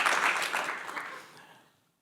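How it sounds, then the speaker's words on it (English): Applause from a lecture-hall audience at a science talk on rheumatology research, a dense patter of clapping that starts loud and steadily thins and fades away over about two seconds. "and yes, you can clap."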